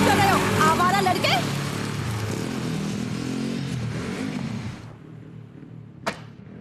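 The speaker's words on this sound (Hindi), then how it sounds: "इंजन बंद करो। कितना शोर है" Motorcycle engines roar and rev loudly and close for several seconds, then cut off abruptly, leaving quiet with a brief sharp clack near the end.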